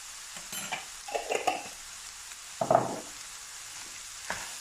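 Lasagna filling stirred in a pan, with soft scraping strokes and bursts of sizzle coming in short, uneven clusters over a quiet background, close by and with no talking.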